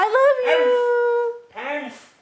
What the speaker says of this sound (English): A famous Siberian husky named Mishka became an internet sensation because she spoke words like, "I love you," in a way that sounded eerily human.